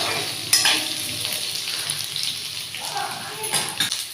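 Tomatoes frying in a pan in a home kitchen, giving a steady, moderate sizzle with occasional stirring clinks and brief sharper spikes.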